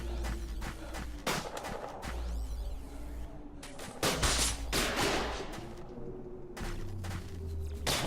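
Enemy gunfire cracks in the shooter Until None Remain: several loud bursts and single shots ring out, separated by short quiet gaps, over a faint low background hum.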